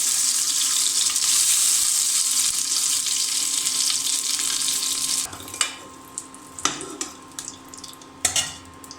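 Turmeric-coated eggs hit hot oil for a cauliflower and potato egg curry, setting off a loud, steady hiss of sizzling up close for about five seconds. It cuts off abruptly, leaving scattered clanks and scrapes of a utensil against the pan.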